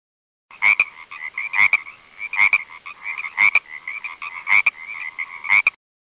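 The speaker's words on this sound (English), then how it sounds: "Frog." A frog croaks in six loud, evenly spaced bursts, each a rattling, raspy call with sharp clicks, close and alone against silence.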